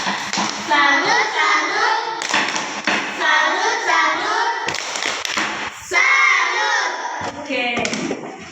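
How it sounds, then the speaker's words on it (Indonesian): Children in an Indonesian primary science lesson chant and clap a rhythmic tepuk salut together, loud and close, with bursts of group shouting and a teacher's voice between the chants. "Tepuk salut untuk siapa?"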